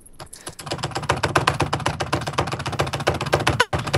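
Rapid, dense keyboard clicks from a computer space bar pressed over and over during Minecraft play, a loud continuous clatter filling nearly the whole stretch with a brief gap near the end.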